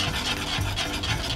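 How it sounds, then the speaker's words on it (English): A whisk stirring melted chocolate in a pan, giving a steady close scraping and rubbing sound without pause and no talking. "Now I'm going to mix it with a whisk"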